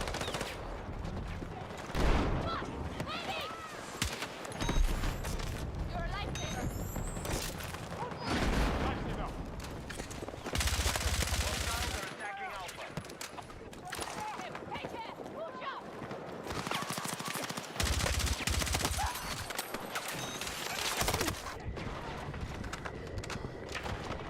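Rifle fire with heavy recoil in Battlefield 6, bursts of rapid shots in several volleys over continuous battlefield noise, with a voice talking over much of it.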